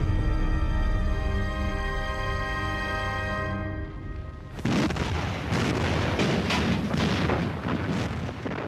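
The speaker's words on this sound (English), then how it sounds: "Allied battleships begin a full-scale bombardment of the German positions." Allied battleship bombardment shelling German bunker positions on the Atlantic Wall: a steady tonal hum gives way to a heavy, continuous rumble of booming shellfire with repeated bursts, loud and dense.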